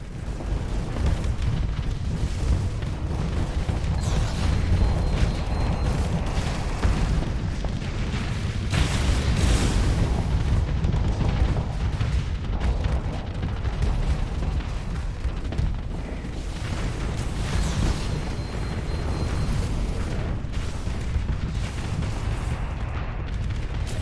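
Explosions in the space combat game Starsector roar as a dense, continuous rumble of booms and blasts, loud and sustained throughout with no pauses and no talking.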